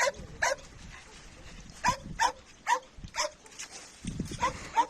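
Rescued dogs in a long outdoor enclosure bark in repeated sharp bursts, several close together near the start and more spread through the rest, fairly near and moderately loud over a quiet background.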